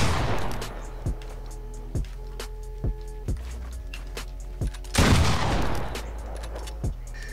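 Gunfire in the video game Fortnite: a rapid opening volley, then sharp, evenly spaced single shots, a second heavy burst midway and a few more isolated cracks, all loud and close.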